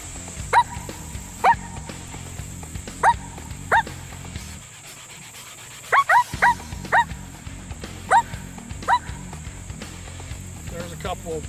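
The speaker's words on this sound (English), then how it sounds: "We'll start off with the coyote barks," A series of short, sharp yappy coyote barks blown on a two-reed diaphragm call, repeated irregularly about a dozen times, with a few quick doubled barks in the middle.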